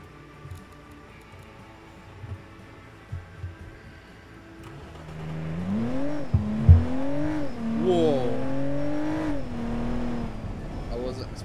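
A small convertible sports car in a video game accelerates hard after a quiet start, its engine note climbing and sweeping upward through several surges, loud and close.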